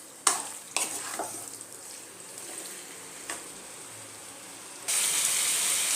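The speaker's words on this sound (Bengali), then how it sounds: "ভালো মতো মশলার সাথে মিশিয়ে নেব।" Marinated chicken pieces are stirred into spices in a pan over a medium flame, with a few scraping clatters early on, a steady frying hiss throughout and a brighter sizzle rising near the end.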